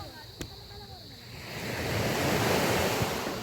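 Calm sea waves washing onto a beach at night, a soft continuous surf that swells gently and stays close, with some wind noise and a faint voice in the background.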